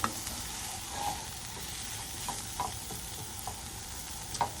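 Mushrooms frying with butter and flour in a pan, a soft steady sizzle broken by a few light spoon taps and stirring scrapes, fairly quiet and close.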